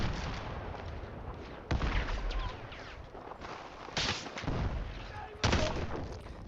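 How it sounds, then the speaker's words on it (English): Gunfire in the video game Battlefield 6: sharp shots and bursts ring out over a constant roar of battle, with louder cracks landing close by. "I know they're shooting at me"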